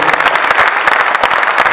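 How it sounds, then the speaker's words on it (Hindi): Loud, dense applause from an audience at a Hindi comic poetry gathering (hasya kavi sammelan), many hands clapping steadily and close, filling the whole moment without speech. "एक बार मजबूत तालियां इस बड़े आदमी के लिए बिखरनी चाहिए।"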